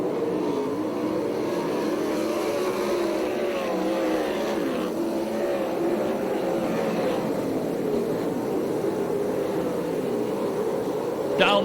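Sprint cars race the final lap of an ASCS Canyon Region main event at Perris Auto Speedway, California, their engines a steady, continuous roar with shifting pitch throughout, heard at a distance with a commentator talking over it.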